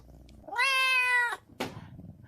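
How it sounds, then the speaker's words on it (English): A cat lets out a single loud, drawn-out meow, followed a moment later by a short sharp noise, with near silence around it. "Cat noises make it perfect."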